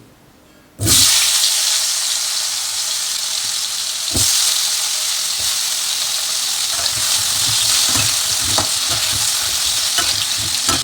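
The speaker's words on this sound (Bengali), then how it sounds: "এবার আমরা কুমড়োগুলোকে ভেজে নিচ্ছি" Pumpkin pieces hit hot oil in a pan with a sudden loud sizzle that stays strong and steady, punctuated by stirring scrapes and knocks, with no voices.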